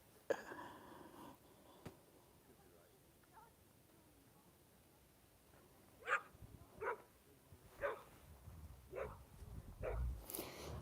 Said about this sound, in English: I couldn't do with a yappy dog.